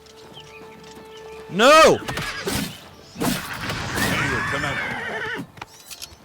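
A horse in the video game Oblivion Remastered gives a loud, close whinny, followed by hoof clip-clops and combat clatter, while a player's voice shouts over the game sounds.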